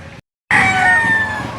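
A gamefowl rooster crows at a chicken market in Lipa City, Batangas, one loud close drawn-out crow after a brief pause, with faint market noise beneath.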